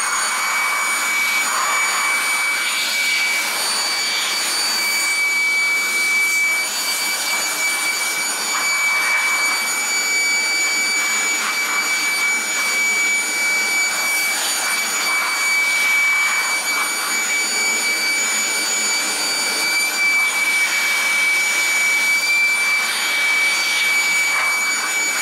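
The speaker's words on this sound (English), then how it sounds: "That fan's spinning like crazy during use. I think blowing it should be totally fine." Compressed air blasts steadily into a dusty PlayStation 4 console fan, a loud, constant high-pitched hiss and whine that holds for the whole stretch with slight surges.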